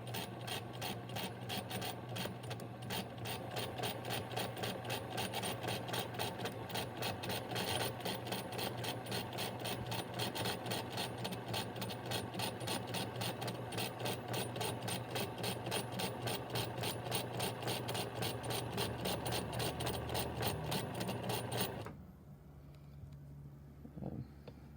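A vintage Free-Westinghouse sewing machine stitches a seam in a steady, rapid mechanical chatter that runs continuously and loud for about 22 seconds, then stops abruptly, leaving a faint low hum.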